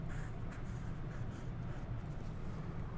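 A marker scratching texture onto paper, a steady faint scribbling rasp of short repeated strokes, close and quiet with no voices.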